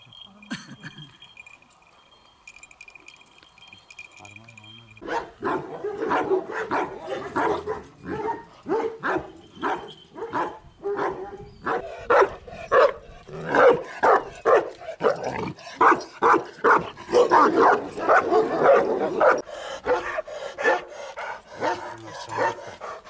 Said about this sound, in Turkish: Dayanıklı bir hayvandır kangal köpeği.